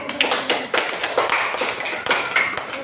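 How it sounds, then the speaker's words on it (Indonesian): Students in a classroom clap for a discussion group, a close, uneven patter of individual claps with sharp taps scattered across a few seconds. "Berikan tepuk tangan untuk kelompok anggrek."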